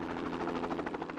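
Helicopter flying over New Zealand forest while spreading poison bait, a steady close rotor thrum with rhythmic blade chop and constant loud engine drone throughout.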